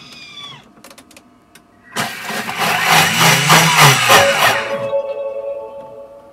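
A Thermomix blends cashew nut milk at full speed aboard a trimaran yacht. After a few soft clicks, the motor starts with a loud, close whirring roar for about three seconds, then winds down.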